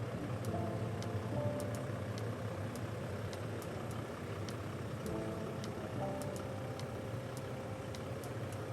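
A 2023 Toyota Land Cruiser LC300 VXR idles steadily after a push-button start, a low, even engine hum with faint ticking and clicks, no talk.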